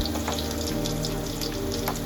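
Garlic and onion drop into hot oil and fry with a loud, dense, continuous sizzle that fills the whole moment, close up.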